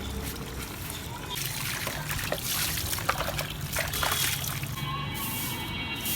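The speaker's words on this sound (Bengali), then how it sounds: "এদিকে রান্না হচ্ছে আর এদিকে মেজে মেজে ধুয়ে নিচ্ছি।" Dishes being scrubbed and rinsed under running water in a kitchen: a continuous trickle and splash of water, with brief clattering as items are handled.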